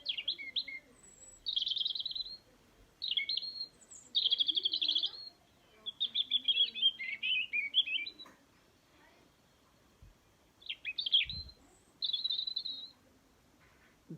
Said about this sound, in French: Il y a un rouge-gorge pas loin d'ici.